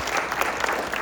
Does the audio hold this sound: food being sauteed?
no